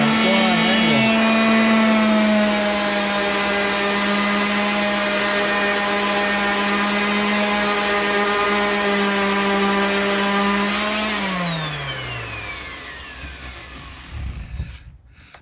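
A power sander runs steadily against a wooden sign with a loud, constant whine and hum, then winds down in pitch and fades to a stop near the end.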